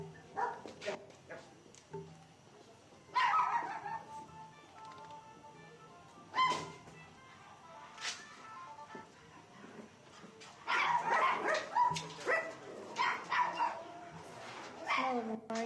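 Puppies and dogs bark and yip in an indoor puppy room at the southern end of a kennel building, with scattered sharp barks and dense bursts of overlapping yapping, some close and loud, others fainter in the background.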